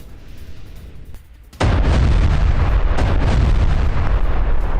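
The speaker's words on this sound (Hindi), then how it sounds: "शहर में हर तरफ सुनाई दे रहा है जोरदार धमाके।" Loud, sustained rumbling blasts from explosions after a missile attack in Rafah, starting abruptly after a quieter stretch and continuing as a dense, roaring barrage.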